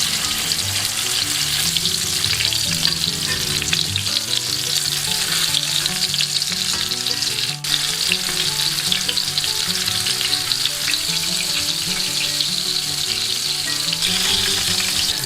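Christmas Eve carp, marinated in milk, slowly frying in a pan, giving a steady, loud, continuous sizzle and crackle heard close up with no voices.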